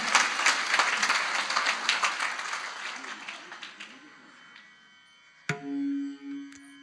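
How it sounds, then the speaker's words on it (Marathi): An audience at a school kirtan program claps loudly for the children, the dense applause fading over a few seconds. A voice then takes over with a sustained sung or spoken tone. "या लेकरांसाठी एकदा टाळ्या वाजवा जोरदार."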